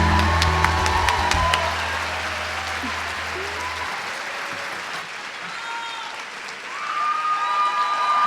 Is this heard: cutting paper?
no